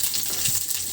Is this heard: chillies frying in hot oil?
yes